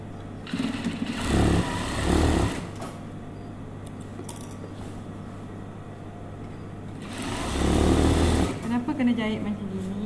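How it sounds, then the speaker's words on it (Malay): A sewing machine stitches elastic onto batik trousers in two short motor bursts, with a quieter hum between them, and a person talks over the whirring. "Kita jahit sipi-sipi."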